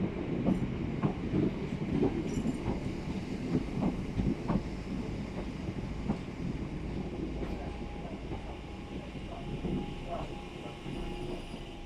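A Southeastern train bound for London Charing Cross idles at Tunbridge Wells station with a steady low motor rumble and hum, some clicks and clatter over the top, and voices faintly in the background.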